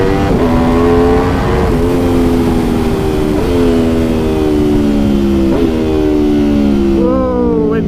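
A 2019 Aprilia RSV4 1100 Factory engine roars loud and near, climbing hard through the revs with several brief dips at gear changes, steady and unbroken throughout.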